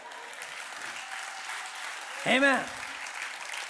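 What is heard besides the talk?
church congregation applause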